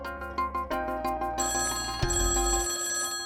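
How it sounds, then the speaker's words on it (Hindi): Telephone ringing indoors in a home, repeated electronic ringtone bursts in a steady rhythm, close and clear with no talk over it. "अरे ये फोन भी ना कभी भी बज जाता है।"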